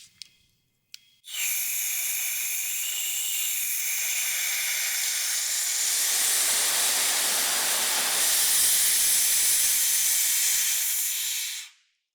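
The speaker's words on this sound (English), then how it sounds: "This allowed me to vent all the CO2 that was in the system" CO2 gas hisses steadily out of a system valve for about ten seconds after a couple of small clicks, a loud continuous broadband rush that swells slightly and then cuts off abruptly.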